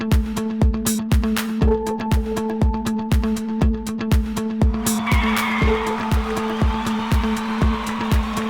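Late model race cars circle the track at Waterford Speedbowl, engines droning steadily with a repeating pulse as the pack passes, then crowd or track noise swells in the final seconds; no talk is heard.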